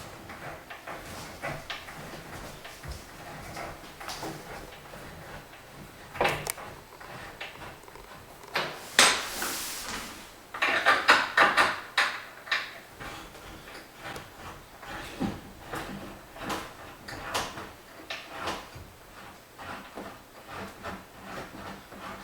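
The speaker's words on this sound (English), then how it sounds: "So what we're going to do is loosen our walk belt 10 turns." Treadmill walking-belt adjusters being loosened ten full turns each: quiet, intermittent clicks, scrapes and short hissy rasps, with a brief louder burst midway and no talk.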